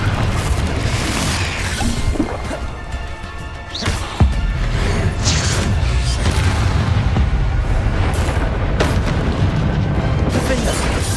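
Blasting-spell explosions in a Hogwarts Legacy fight: loud, sustained booms and crashing impacts stack into a dense roar. A sharp hit lands around the middle, and a voice speaks briefly.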